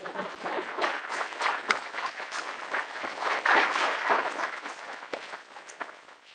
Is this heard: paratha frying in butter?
no